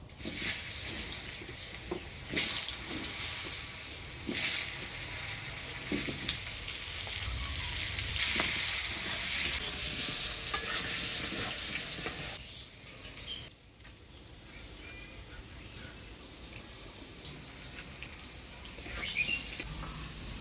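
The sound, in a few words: potatoes frying in oil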